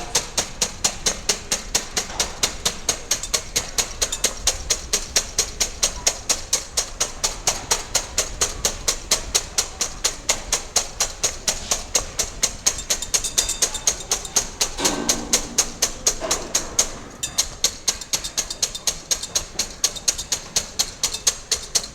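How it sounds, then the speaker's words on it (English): Eggs and sugar being whisked for cake batter, a steady, rapid, evenly spaced clicking of the whisk against the bowl that runs throughout without any talk. "The whisking has to be done until the mixture reaches what we call ribbon stage."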